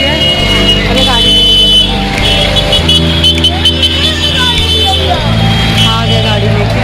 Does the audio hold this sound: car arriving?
yes